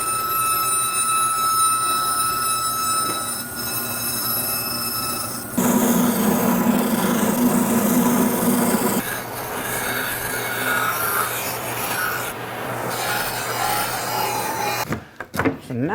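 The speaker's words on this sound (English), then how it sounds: "I'm going to make these straight cuts with the big blade on my bandsaw because it cuts so straight" A bandsaw fitted with a big blade hums steadily, then bites into padauk wood for a few seconds of straight cutting, giving a louder, rougher rasp before settling back to the running motor and ending with brief clatter.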